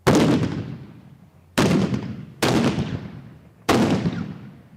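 Four loud booming carbide cannon blasts in Kollumerzwaag, spaced irregularly, each a sharp crack followed by a long rolling decay.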